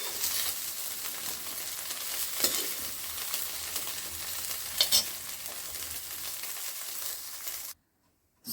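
Soybeans fry and sizzle in hot oil in a kadhai while being stirred, a steady close hiss with occasional scraping clinks, cutting to silence near the end.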